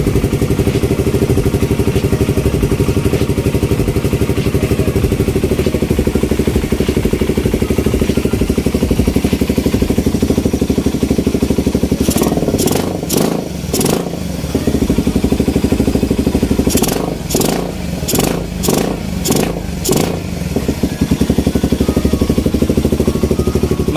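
Suzuki Raider 150 motorcycle fitted with dual carburetors idles steadily and loudly close by, with a handful of sharp clicks or taps partway through.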